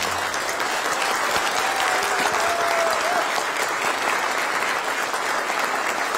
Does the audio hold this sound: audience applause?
yes